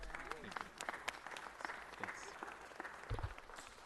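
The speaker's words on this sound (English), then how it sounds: "Let's give them a big round of applause." Applause in a city council chamber, a scattered, fairly faint patter of clapping from the audience, with voices mixed in underneath throughout.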